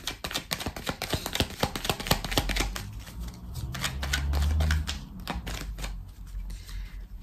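A tarot deck being shuffled and cut, with dense rapid riffles and card flicks close up, steady and fairly loud throughout with no talking.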